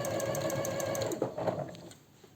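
A sewing machine with a special presser foot stitches binding onto a silk blouse in a quick, even, close-up whir of needle strokes that slows and stops near the end.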